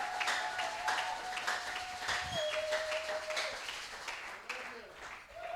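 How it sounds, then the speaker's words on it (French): A church congregation applauds in praise, dense continuous clapping at moderate volume with a sustained tone and voices mixed in. "Acclame pour le Seigneur Jésus-Christ."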